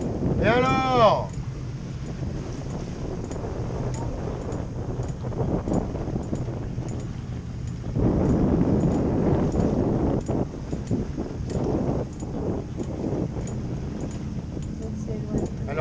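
Waves slap and wash against a sailboat beating close-hauled at sea, with wind buffeting the microphone in steady gusts and people talking over the noise throughout.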